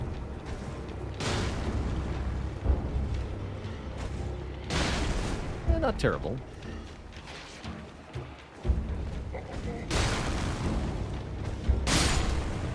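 Explosive stones going off in Elden Ring, several booming blasts spread across the clip with rumbling tails, each rising above the game's background din, while someone briefly talks over them.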